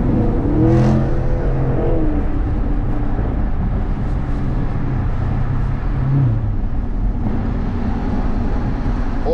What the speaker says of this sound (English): the car sounds pretty healthy